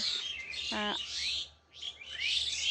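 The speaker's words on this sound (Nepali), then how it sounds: "यसरी चाहिँ यी चराहरूको चिरबिर आवाजसँग" Several birds chirp and tweet in quick bursts at dawn, fairly close, with one short buzzy call standing out midway against a quiet background.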